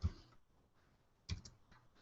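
Short bursts of keypresses on a computer keyboard, a quick cluster of clicks at the start and another near the end, faint and close in a quiet room.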